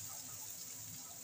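Hot water poured in a short steady gush into a pan of sautéed ridge gourd, a continuous close hiss with no voices.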